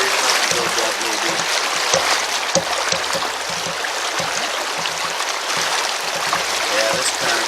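A strong river current rushes steadily around someone wading in it on a camping and fishing trip, loud and constant, with occasional knocks and splashes close by.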